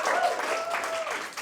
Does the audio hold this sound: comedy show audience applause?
yes